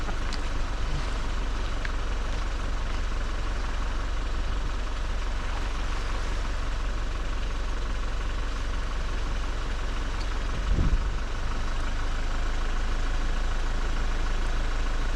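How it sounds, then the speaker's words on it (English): A fishing boat's engine idles steadily at sea off North Wales, a constant low rumble running throughout with one brief thump near the end. "I had the engine running this time already"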